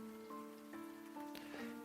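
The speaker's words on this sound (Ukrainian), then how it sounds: "на дворі собі такий спокійний дощик" Gentle, steady rain patters outside as a soft, even hiss, partly covered by sustained tonal sounds and brief clicks.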